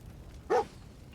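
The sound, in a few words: dog barking in video game Fallout 4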